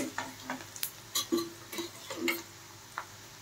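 Onions browning in a pan for a cauliflower curry, sizzling softly while a spoon stirs them in a run of short scraping strokes, close by and with no talk.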